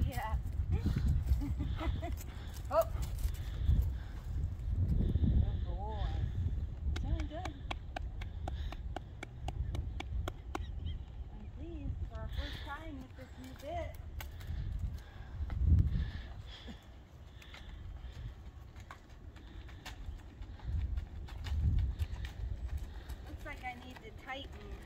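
A horse fitted with a bitless bridle made from beta clip-clops at a walk, hooves thudding irregularly at moderate distance while people talk over it for most of the stretch, with an occasional bird in the background.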